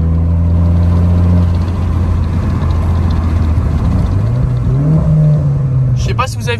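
Renault Clio 4 RS in sport mode braking hard and downshifting, with the engine drone falling then a blip rising as gears drop, heard from inside the car under someone talking.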